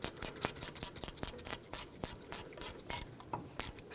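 Ratchet wrench tightening a brake hose bolt on a rear caliper of a 2007-2014 Chevrolet Silverado 2500 HD, a close, steady run of sharp clicking strokes in an even rhythm, about a dozen pulls with no talk.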